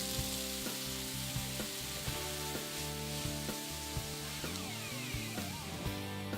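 Vegetables frying in extra virgin olive oil over medium-high heat, a dense, steady sizzle with faint regular ticks running through it, with no talk.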